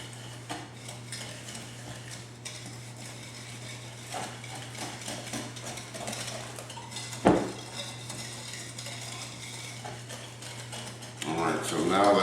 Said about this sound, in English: to mix our sugar and our eggs together. And this is what's referred to as creaming your eggs.